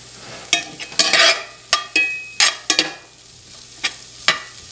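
Thick cut bacon pieces cook in a cast iron skillet, a soft sizzle broken by sharp scraping and stirring strokes of a utensil against the pan, close and irregular.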